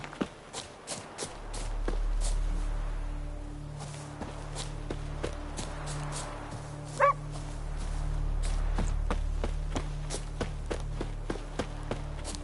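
Hussar the dog in The Witcher 3 making a few soft yips and whimpers among footsteps and low ambient hum, faint and scattered over a quiet background.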